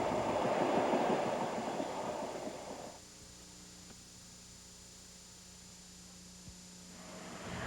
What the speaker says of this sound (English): Now we're back on the train, this time for an even longer ride, a 12-hour ride